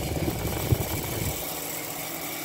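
A small Emerson Quiet Kool window air conditioner's compressor hums steadily at close range, with a low thump near the start and the low rumble easing after about a second.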